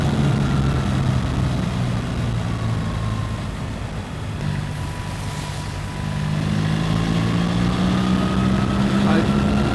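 A BMW R1300 GS Trophy adventure motorcycle's engine drones steadily while riding in poor conditions, with a continuous low hum and rising, falling tones as the revs shift.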